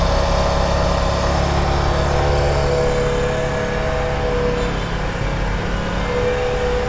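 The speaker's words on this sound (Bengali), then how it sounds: "আপনারা দেখতে পাচ্ছেন বাইকের আরপিএম অলরেডি বেড়ে গেছে" A motorcycle engine with its idle screw loosened runs at raised RPM, around 4,000: a loud, steady, close droning hum that holds without a break.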